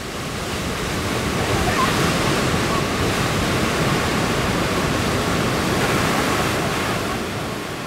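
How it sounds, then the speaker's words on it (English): The Qiantang River tidal bore surges toward the riverbanks as a towering wall of water, giving a dense, steady roar of churning water that stays loud throughout. "here comes the world's largest tidal bore, a colossal wall of water rushing toward the riverbanks"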